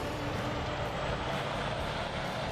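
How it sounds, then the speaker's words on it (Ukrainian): A tractor drives in Farming Simulator 22 while working a sand quarry, giving a steady, continuous engine drone with broad mechanical noise that holds at an even level throughout, with no talk. "а трактор завеземо на нашу стояночку"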